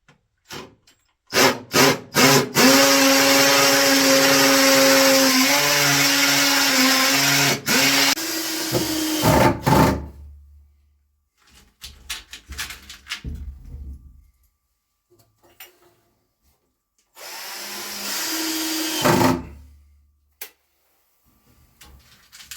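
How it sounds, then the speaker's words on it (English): A power drill runs loudly for several seconds with a steady whirring pitch, stops, gives a few short bursts, and later runs again briefly, with clatter between. "You just want to drill things."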